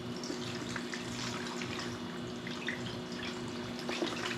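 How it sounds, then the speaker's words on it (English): Cloudy, milk-like pickling lime water is poured over unwashed eggs to preserve them, giving a steady, continuous wash of running liquid over a low background hum, with no talking. "Let's go ahead and start pouring."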